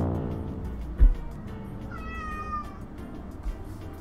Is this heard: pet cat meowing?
yes